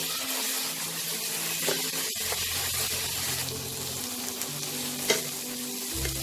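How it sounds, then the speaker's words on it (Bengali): Ginger garlic masala fries in a pan with a dense, continuous hiss of sizzling oil and a few faint stirring scrapes, close and steady, with no voices. "এটাকে ভালো করে কষিয়ে নেব যতক্ষণ না আদা রসুনের কাঁচা গন্ধটা চলে যাচ্ছে"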